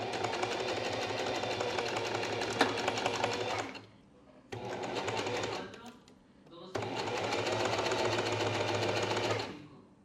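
Sewing machine runs a straight stitch in three bursts, a steady, close mechanical whir and rapid needle rattle with brief pauses between runs, alone without talk.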